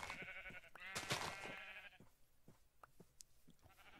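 Sheep bleat repeatedly in the Minecraft Tale of Kingdoms mod, a loud wavering bleat first, then scattered quieter bleats and soft thuds.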